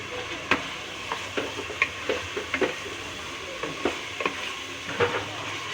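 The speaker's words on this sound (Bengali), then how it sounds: "মাংসটারে ভালোভাবে কষিয়ে নিতে হবে।" Beef being sautéed and stirred in a pot, a steady frying sizzle under a regular series of sharp spoon scrapes and clinks against the metal, close and fairly loud, with no talk.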